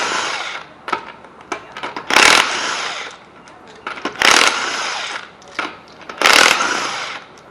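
Pneumatic impact tool removing a wheel from a Ford Taurus during front axle and hub work, three loud bursts of rattling hammering separated by pauses filled with clinks and quieter shop sounds.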